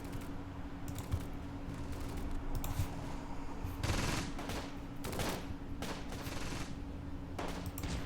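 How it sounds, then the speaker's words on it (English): Mortar and small-arms gunfire in the Close Combat: Gateway to Caen war strategy game: rapid rattling bursts and sharp cracks come in irregular clusters, with heavier thumps at moderate distance and no talk. "I'm going to go ahead and try to fire off some mortars at the enemy here."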